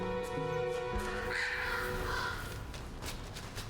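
Crows cawing: a few raspy caws rise over a steady background of hum and distant noise, fairly close and moderately loud, fading toward the end.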